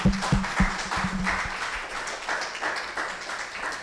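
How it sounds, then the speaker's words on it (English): Conference audience claps for a speaker at an applied informatics event, starting with a few sharp, close handclaps that swell into a modest, steady patter of applause from a moderate-sized room. "let's give an applause to Hernan."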